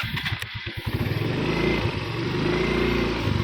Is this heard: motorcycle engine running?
yes